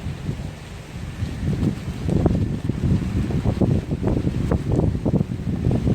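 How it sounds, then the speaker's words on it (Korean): Heavy rain and strong wind by the sea near a large bridge during a fishing trip, a steady roaring wash with gusty buffeting and rumbling wind noise on the microphone throughout, no voices. "비가 너무 많이 온다"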